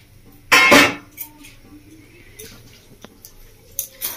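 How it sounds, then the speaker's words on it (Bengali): A lid lifted off a cooking pot of chili chicken gives one sharp metallic clatter and scrape near the start, followed by a few faint light clinks and taps in a quiet home kitchen. "আমি ঢাকাটা খুলে নিচ্ছি"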